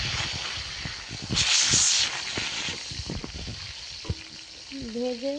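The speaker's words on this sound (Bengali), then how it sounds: "এবার তেলের সাথে রসুনটাকে সুন্দরভাবে নাড়াচাড়া করে নিয়ে ভেজে নিতে হবে।" Four to five cloves of chopped garlic sizzle in hot oil, with a burst of louder hiss early on and irregular scraping clinks of a spatula stirring the pan nearby.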